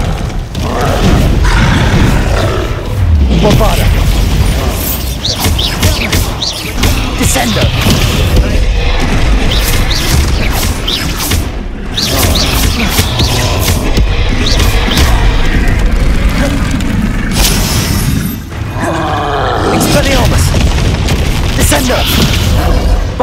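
Bombarda spell explosions go off in the game Hogwarts Legacy on Xbox Series S. Heavy booms and crashing thuds repeat over a dense, continuous roar of combat, with in-game voices underneath.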